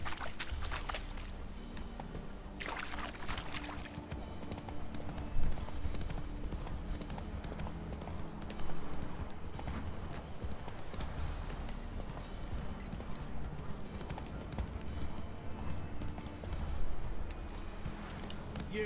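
Roach the horse clip-clops along in Witcher 3, with steady hoofbeats running the whole way under a dense bed of game ambience and music.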